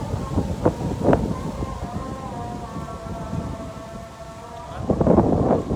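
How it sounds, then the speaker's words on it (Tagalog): Steady wind rushes across the microphone at a marina, buffeting it with a few louder gusts near the end. "mahangin siya"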